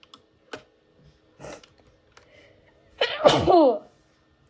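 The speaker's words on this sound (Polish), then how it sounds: "Czemu ja tak kicham na odcinku?" A single loud, close human sneeze bursts out after a few scattered soft keyboard taps and clicks in a quiet room.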